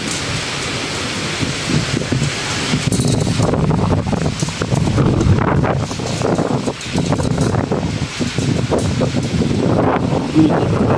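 Strong, steady wind roars and buffets the microphone during a storm that damaged a roof, with rain hissing underneath throughout and no talking.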